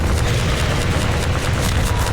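Rocket explosion in the Half-Life 2 video game, with a continuous loud roar of blasts and a rumbling fusillade filling the whole stretch, dense and close with no gaps.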